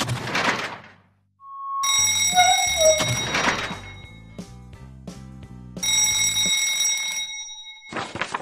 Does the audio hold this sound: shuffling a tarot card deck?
no